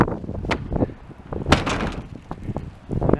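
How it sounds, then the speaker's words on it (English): The lid of a smart garbage bin, ruggedized to survive rain and snow, is shut and slams down with a sharp close bang, set among nearby handling clatter and small knocks. "you can see I'm going to shut it here. That's the hardest part, and that just, of course, it slams down"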